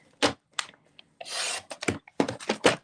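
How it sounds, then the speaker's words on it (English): A paper trimmer blade slides along a card edge in short scraping strokes, one longer rasp in the middle among several brief close swipes, fairly quiet with no talk. "let's bring in our trimmer, because I tend to do that straighter with the trimmer"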